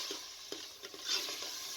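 Onions frying in half a cup of hot cooking oil inside a pressure cooker for a gosht and green beans curry, a steady soft sizzle with occasional stirring scrapes, close and continuous with no talk.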